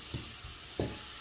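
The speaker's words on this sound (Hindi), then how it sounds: "5 मिनट हमने मसाले को अच्छे से भून लिया है" Masala paste with onion and tomato frying in a pan, a faint steady sizzle with two brief stirring scrapes over about a second.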